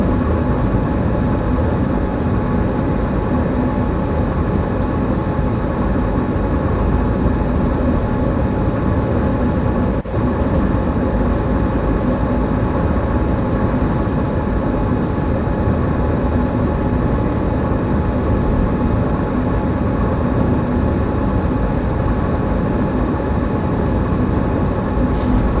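An FLX passenger train in Train Sim World 5 runs at 200 km/h between Stuttgart and Berlin, heard from the cab as a constant, loud rumble and hum of rails and motors with no break for over twenty seconds.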